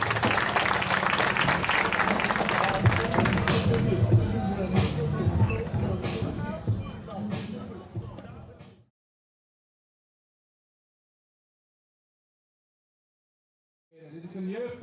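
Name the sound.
crowd applause for fighters after kickboxing bout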